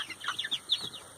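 An Americana chicken in a coop gives a few soft, quick clucks in a short irregular series, faint and close, with no one talking.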